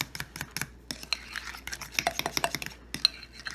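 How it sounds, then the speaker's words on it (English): A deviled egg and pesto mixture is stirred in a bowl, with quick, uneven clicks and scrapes of utensil against the dish, close and fairly quiet. "I'm going to stir it up really well"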